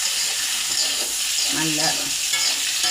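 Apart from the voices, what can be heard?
chopped onion frying with potatoes in a pan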